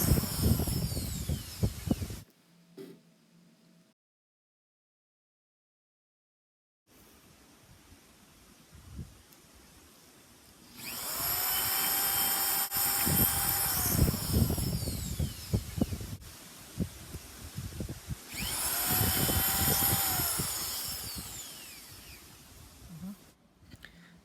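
A power drill drives stainless steel screws into a new business sign, whining in two sustained runs with clicks and handling clatter around them and a silent stretch early on.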